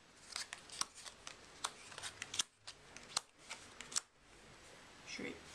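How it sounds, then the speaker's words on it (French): Playing cards are dropped and spread haphazardly across a tabletop during a magic trick, a run of quick, crisp flicks and slaps at irregular intervals, close and quiet. "Je vais ensuite mettre les cartes sur la table, un peu n'importe comment."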